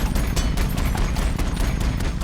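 A massive film cannon fired from a mech-like amp suit, a dense barrage of heavy booming blasts that roll together without pause, loud and close with no gaps of quiet.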